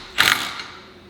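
A socket wrench tightening a Can-Am clutch bolt gives one brief, close ratcheting burst that trails off quickly.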